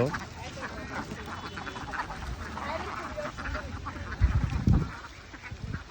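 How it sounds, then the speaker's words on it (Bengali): A large flock of about 1500 ducks plays together, giving faint, continuous overlapping quacks and splashy chatter with a few louder bursts near the end, and a voice speaks over them. "দেখতে পাচ্ছেন এখানে একসঙ্গে 1500 হাঁস রয়েছে, তারা খেলা করছে।"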